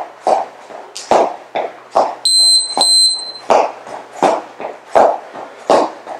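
A quick electronic workout timer buzzer beeps twice amid rhythmic thumps and breathy bursts from someone doing a bodyweight cardio workout at a steady pace.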